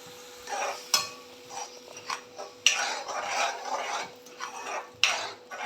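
Coconut and kadhi mixture scraped and stirred in a kadhai with a metal spoon, giving scratchy, uneven strokes and a few sharper clinks against the pan, close and alone, with no voice.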